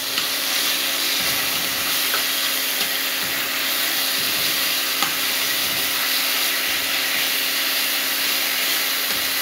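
Garlic sizzles steadily in hot oil in a pan while being stirred, producing a continuous close crackling hiss with faint scraping and small pops throughout, no talking.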